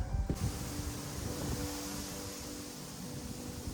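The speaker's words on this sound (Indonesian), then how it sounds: "Ya ampun, anginnya kencang hari ini loh" A strong wind blows outdoors in a garden, with a continuous rushing roar and gusts buffeting the microphone, plus a brief knock at the start.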